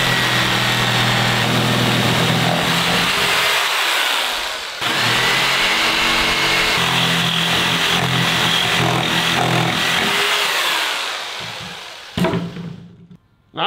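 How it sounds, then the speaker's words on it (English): A power saw trimming the excess off the edges of homemade body armor: a loud, steady, high-pitched motor whine with a brief dip partway through, then cutting off abruptly near the end. "Now we just got to take a saw to the edges and cut that excess off"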